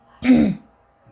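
One short, throaty cough or throat clear, close and fairly loud, followed by quiet.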